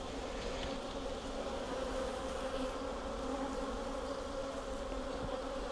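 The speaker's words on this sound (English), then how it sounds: "Very dark bees though" Dark honey bees drone in a dense, continuous buzz around an open hive, steady and close throughout with no pauses.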